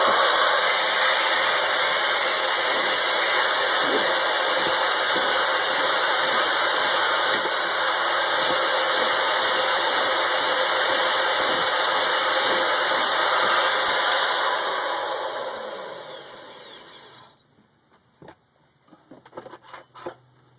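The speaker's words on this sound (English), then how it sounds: "Now we need to put a bevel on the front of this so that it will fit into the tip" Power tool grinding a bevel onto the front of a small metal part for an all-fuel burner, a steady loud whine for about fifteen seconds that then stops, followed by faint handling noises.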